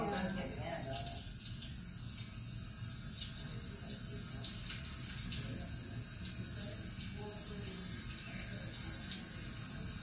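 A shower runs with a steady, hissing spray of water, continuous and fairly faint, while a voice talks quietly underneath.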